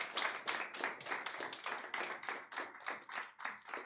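An audience claps steadily in a hall to welcome a speaker onto the stage at a class event, a dense, even burst of many hands that holds at a near-constant level for the whole stretch, with no voices over it.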